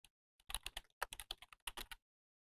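Quick bursts of keystrokes on a computer keyboard while an email address is entered, an irregular run of crisp close taps lasting under two seconds, then silence; quiet overall with no talking.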